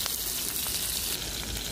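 Onions and green chilies fry in oil in a pan at an outdoor camp cook, a steady close hiss and crackle with no voices.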